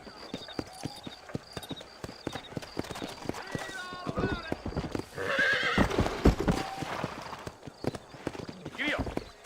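Horses in a video game, with a steady run of hoof clip-clops, several whinnies and snorts, and people talking over the hoofbeats in places.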